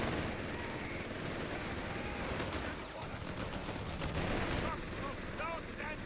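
Rifle and battle gunfire from a Company of Heroes 3 World War II strategy match, dense overlapping shots and distant booms under a constant roar of combat.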